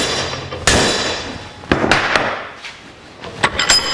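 Hammer striking a 1/4 inch steel bar clamped in a vise, several sharp separate metallic blows with short ringing decays, close and loud.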